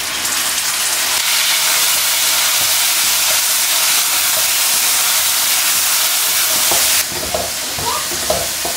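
Beans, potatoes and chopped chili stir-fry in a home kitchen, a steady loud sizzle and hiss running throughout with scraping stirs, shifting slightly after about seven seconds as the chili goes in.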